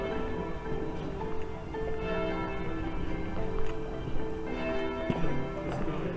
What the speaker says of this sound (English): And the bells have struck five.